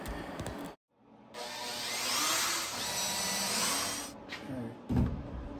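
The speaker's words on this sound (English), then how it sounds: "drill out the holes and screw that in" Power drill boring holes into a wooden swing gate piece, a sustained whining drive for a few seconds after a brief pause, ending in short bursts.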